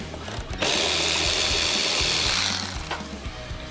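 A 3/16 Allen key working a blinker bolt on a Harley-Davidson Road Glide gives a steady, close mechanical ratcheting whir lasting about two seconds, followed by a few quieter clicks.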